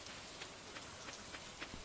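Soft continuous rain pattering in Stardew Valley, a faint even hiss with light scattered drops and no other sounds.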